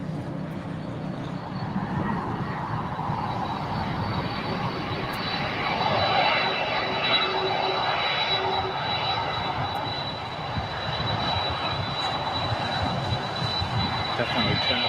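A jet airliner taxis on a taxiway at Los Angeles International Airport, its engines giving a continuous loud roar and whine that swells slightly midway, heard from a nearby hill.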